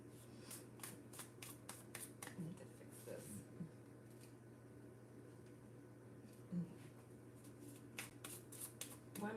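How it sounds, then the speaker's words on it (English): A deck of tarot-style cards being shuffled by hand during a pick-a-card reading, a series of quick crisp riffling and snapping bursts repeating close up, with soft low background hum between them. "Why am I shuffling this again?"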